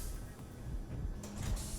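An offset DLC door in the Space Engineers video game slides open with a brief whooshing mechanical burst over a steady low hum.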